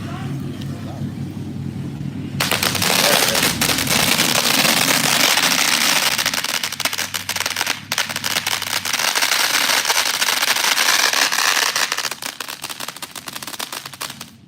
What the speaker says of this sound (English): It was the crackle on the roar and stomp.